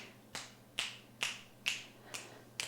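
Six crisp finger snaps in an even rhythm about half a second apart, close and fairly quiet, during a mother-and-baby yoga session, with no talk over them.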